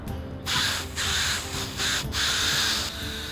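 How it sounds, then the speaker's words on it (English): Spray paint for a hammered metal finish hisses in several bursts of about half a second, with short pauses between them, close and fairly loud over a chainmail upgrade project. "I'm just gonna kind of spray it fairly high up and let it kind of go over lightly"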